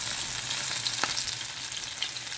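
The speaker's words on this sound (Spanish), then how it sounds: "pues ahí se están friendo" Plantain empanadas stuffed with spinach fry in hot oil in a pan, giving a steady close sizzle and crackle with one faint tap partway through. No voices are heard.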